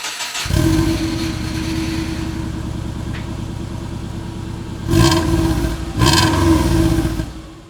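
A Subaru engine fitted with new exhaust headers starts and idles with a loud, steady rumble, then revs up in two sharp bursts near the end before settling back, heard alone without talk.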